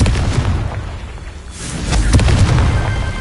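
The Confringo explosive spell goes off in Hogwarts Legacy with heavy, booming blasts and rumbling bursts, loud throughout and swelling again near the end.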